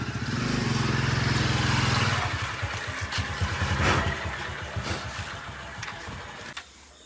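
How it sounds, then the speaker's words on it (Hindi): A motorcycle engine idles close by at a rural farm stop, with a steady low putter and a louder revving stretch early on, then the rhythm fades before the engine cuts off near the end. "जी दूसरी बाइक भी पहुंच गई है"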